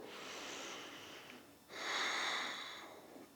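Deep breathing during an Ashtanga yoga practice: a long airy inhale, a short pause, then a louder, fuller breath close to the microphone, with no talking.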